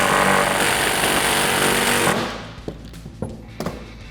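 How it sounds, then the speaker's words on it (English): An impact wrench tightens coilover shock hardware on a 2015-2019 Mustang through a 14mm deep socket, buzzing loudly for about two seconds, then stopping, followed by a few short metallic clicks and taps. "Change sockets here to a 14mm deep socket. We're gonna tighten this down."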